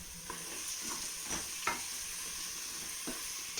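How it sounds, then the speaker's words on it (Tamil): Shallots frying with ginger-garlic paste in a pan for chicken gravy give a steady close sizzle, broken by a few sharp scraping stirs of a spoon. "சின்ன வெங்காயத்தையும் இஞ்சி பூண்டு போட்ட பிறகு அதையும் போட்டு ஒரு வதக்குறோம்"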